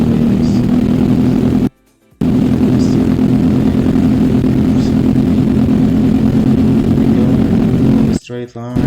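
An Lo206 racing kart engine holds full throttle with a loud, steady buzzing drone close by, broken by two brief dropouts.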